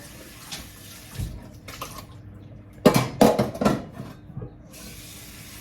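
Running water from a tap splashing over tins being washed in a kitchen sink, in intermittent bursts with a louder stretch of clattering splashes in the middle, fairly close and without talk.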